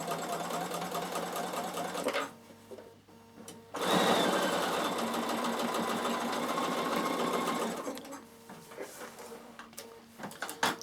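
A Bernina sewing machine stitches a half-inch seam in fabric for a basket or bag, running in two steady motor bursts separated by a short pause, then winding down to quiet handling noises.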